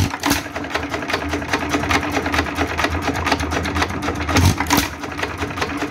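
A warmed-up vintage Associated Chore Boy hit-and-miss engine runs steadily in a barn, giving a loud, continuous rhythmic mechanical clatter with regular firing beats and no talk.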